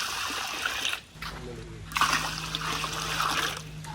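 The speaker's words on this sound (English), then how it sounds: "Let's add water for liters." Water pours steadily into a pot for cooking Sri Lankan masket, a close trickling and splashing stream with a brief dip before it resumes and runs on without talk.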